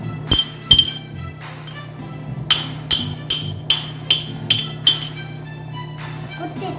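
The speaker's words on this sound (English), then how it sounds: "Crush 2 cardamom." Sharp metallic clinks and taps, a few at first then a quick run of about seven even strikes, as two cardamom pods are crushed in a small mortar for chai.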